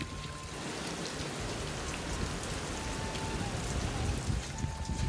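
Steady monsoon rain pattering on surfaces and rooftops, a continuous dense hiss of drops close by, with no voices.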